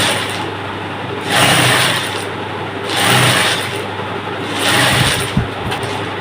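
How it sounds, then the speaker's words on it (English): Sewing machine stitching fabric for an Iro and Buba outfit, with a steady close mechanical whir that swells in three surging runs between quieter stretches. "you start sewing"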